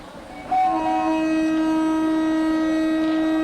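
A train horn sounds in an Indian train simulator game, driving train no. 12506, a loud steady blast starting sharply and holding level to the end, with layered tones, heard alone without talk.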